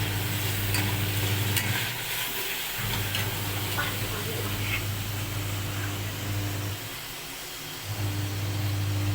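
Eggplant pieces, with chilli added, sizzle in hot oil in a pan for a mustard and poppy seed paste dish, giving a steady broadband frying hiss with a low hum beneath and brief dips near the middle and end.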